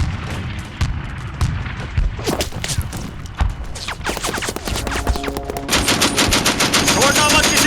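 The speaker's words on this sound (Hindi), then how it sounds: "छोड़ना मत किसी को भी, गोलियां चलाते रहो।" Sustained battlefield gunfire in a Hindi-dubbed Hollywood war film: rapid machine-gun bursts and single shots crackle close and loud, building into a dense continuous barrage, with faint shouted voices underneath.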